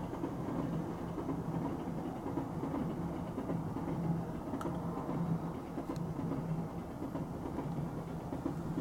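The Sunrise Express sleeper train passes near Yokohama with a faint, steady low rumble that holds evenly throughout, heard from a distance with no voices.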